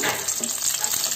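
Chopped green garlic and green chili fry in a pan, giving a steady close sizzle and crackle with no voices.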